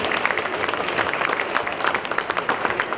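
Warm, dense applause rises from the crowd at a national band competition in Atessa, welcoming the Città di Stilo marching band from Reggio Calabria. The clapping is steady and continuous, with no talk over it.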